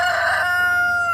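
A rooster crows once, loud and close, its harmonic call strongest in the first half and then trailing off in a sustained tail.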